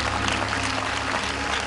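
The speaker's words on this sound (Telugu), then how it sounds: "గట్టిగా చప్పట్లు కొడదాం." A church congregation claps loudly together, a dense, steady wash of applause that holds at the same level from start to finish, with no voices heard over it.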